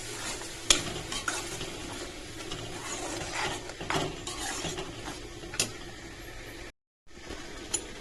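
A ground masala paste with water simmers in a pot for moor kulambu, a South Indian coconut curry, giving a steady close bubbling hiss broken by several sharp clicks and scrapes of a spoon against the pot, with no voices.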